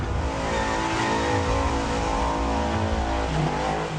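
A stunt car spins donuts among very expensive cars, its engine revving hard and steadily over a dense, continuous roar of tire noise, loud and close throughout with no talk.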